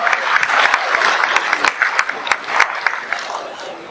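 An audience at an RCM business event claps warmly to welcome a speaker to the stage. The dense applause is loud at first, then thins toward scattered claps that fade near the end.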